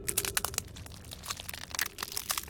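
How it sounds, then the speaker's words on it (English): Outer Wilds game audio of a character being crushed by sand: a steady, faint stream of gritty crackling and crunching bursts, dense and irregular throughout. "That's the sound of me getting crushed by sand."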